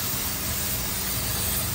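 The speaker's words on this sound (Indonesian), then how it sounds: "Tinggal kita semprot aja." Water sprayed hard and steadily onto an AC DT4000i air conditioner during washing, a loud, even rushing hiss throughout with no break.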